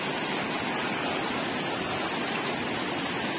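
A river beside the Tibetan camp in Pokhara rushes steadily in a close, unbroken wash of water noise, with no voices over it.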